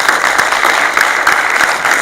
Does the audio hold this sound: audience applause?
yes